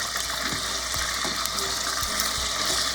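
Steady crackling sizzle of beef chunks browning in hot oil in a pan for a stew, with a few soft clinks and scrapes over a constant frying hiss.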